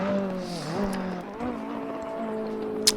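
A GT race car on a hot lap at Zandvoort in Assetto Corsa Competizione, its engine note rising and falling through gear changes and corners, a steady close drone with a brief sharp click near the end.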